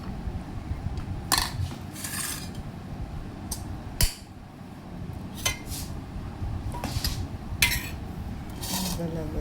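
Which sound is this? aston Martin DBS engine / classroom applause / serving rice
serving rice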